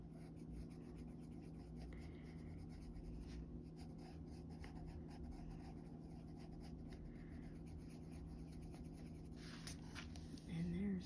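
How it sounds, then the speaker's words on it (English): Colored pencil scratching steadily across paper while shading snow in a coloring page, a soft continuous scribbling close up under a low background hum. "once I've put the colored pencil on there."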